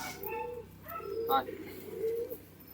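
Pet pigeons give low, throaty coos in a couple of drawn-out phrases, close but quiet, with human voices speaking over and between the calls.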